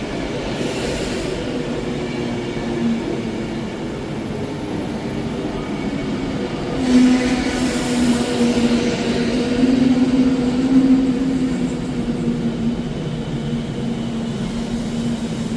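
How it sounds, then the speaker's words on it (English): An Avanti West Coast passenger train from London Euston pulls into Edinburgh Haymarket station, a steady nearby rumble with a low engine drone that swells midway as it rolls past. "in now is the delayed 1214 Scotrail Avanti West Coast service from London Euston to Edinburgh Waverley"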